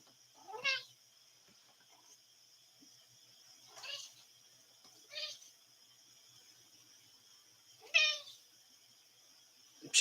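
A cat meows five times at irregular intervals, each cry drawn out, over a quiet steady high hum.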